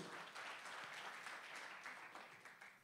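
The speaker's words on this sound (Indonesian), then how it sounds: "Yang percaya beri tepuk tangan buat Tuhan Yesus." Congregation clapping for Jesus during a Good Friday service in a Semarang church, a short, steady burst of many hands that is quiet and distant, tapering toward the end.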